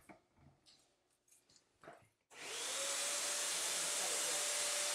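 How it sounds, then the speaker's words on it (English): Flowbee haircutting system vacuum switches on after a quiet stretch of soft handling noises, then runs as a loud, steady, close whine with a constant tone. "So we're going to turn the vacuum on, and Stacey's going to do the top of my hair"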